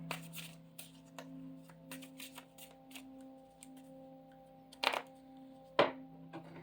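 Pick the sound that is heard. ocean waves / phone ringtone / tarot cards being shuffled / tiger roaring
tarot cards being shuffled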